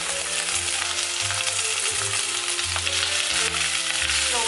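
Boiled basmati rice fries loudly in a hot pot, a dense close sizzle with occasional low thumps and scrapes from stirring, no voices.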